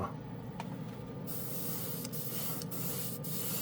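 Cosmic Silver acrylic spray paint misted from close range, a continuous hissing spray with a few short breaks and restarts across a few seconds.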